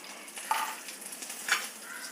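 Mustard seeds, curry leaves and a pinch of asafoetida frying in a little ghee with the gas turned off, a faint steady sizzle with two brief crackling pops.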